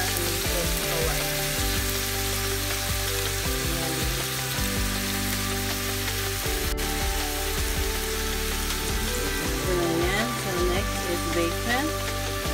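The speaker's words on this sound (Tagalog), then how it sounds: "this is how you cook the bacon" Bacon frying in a pan, a steady close crackling sizzle with bursts of hiss, running continuously under background music and household noise.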